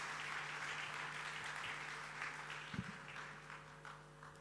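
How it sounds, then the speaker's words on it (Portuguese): Faint, distant applause for guest speakers at a European funds showcase in Portugal, a soft, even patter of clapping that thins slightly toward the end. "Uma salva de palmas para os nossos primeiros oradores convidados"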